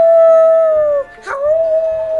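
A person imitates a long wolf howl, a steady sustained tone that briefly breaks and wavers in the middle before resuming, loud and close.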